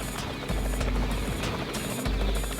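A helicopter flies above Alaska's Knik Glacier, its rotor producing a loud, continuous thumping drone with a steady low-end pulse throughout.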